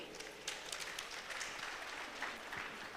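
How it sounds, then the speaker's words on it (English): An audience at an African mineral summit and exhibition gives a round of applause for a commissioner. The dense clapping sounds faint and distant and holds steady for a few seconds. "Another round of applause for our Honorable Commissioner"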